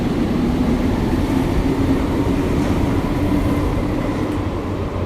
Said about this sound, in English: Yeah, this is the subway.